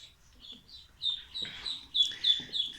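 Young ducklings chirp in thin, high peeps, a string of short calls at close range that grow busier and more insistent in the second half, over a quiet background.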